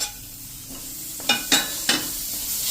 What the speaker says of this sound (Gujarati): તો હવે આપણા જે 2 ટમેટા મીડિયમ સાઇઝના લીધા છે ને એ નાખી દેશું